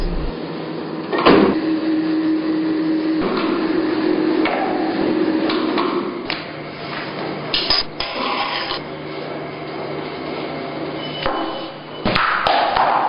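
A dough sheeting machine rolls out pastry for gelin bohçası in a Kahramanmaraş pastry shop, giving a steady mechanical hum broken by repeated taps, thumps and clatters as the dough passes through, with no talk over it.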